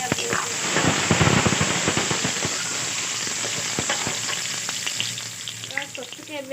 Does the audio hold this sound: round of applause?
no